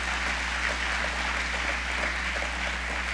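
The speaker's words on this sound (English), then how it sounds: "Give them a round of applause for the fact that they're expressing themselves." Continuous dense applause from an audience at a governor's speech to a business community, steady and fairly loud throughout with no voices standing out.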